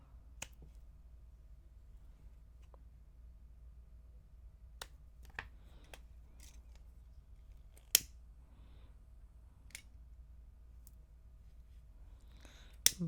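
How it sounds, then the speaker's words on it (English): Scissors snip through a cord while a quirky necklace is being made, giving several sharp, isolated clicks spread out over a quiet background with a low steady hum. "Okay, so snip this off."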